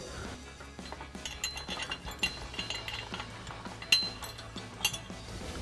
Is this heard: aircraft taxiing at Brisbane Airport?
no